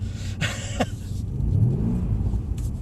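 A Mercedes-Benz car drifting on a track: a steady low engine rumble with a rising rev swell midway, close and loud, with brief brighter bursts of tyre or exhaust noise near the start.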